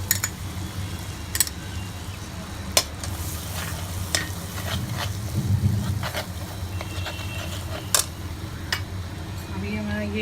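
Butter sizzling in a pan on a low flame while cooking butter chicken, a continuous crackling fry broken by sharp clicks and knocks of stirring against the pan, close and moderately loud.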